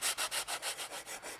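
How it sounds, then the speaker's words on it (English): Sandpaper rubs along the edges of a thin carved wooden box in about eight steady back-and-forth strokes, a close, soft, rhythmic rasp with no voices. "sanding over the edges just a little bit so they're rounder, a little softer"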